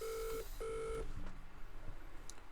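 A game-show phone-a-friend call begins with two clear electronic dialing tones, each held about half a second, then a faint click and quiet line noise, with no talk.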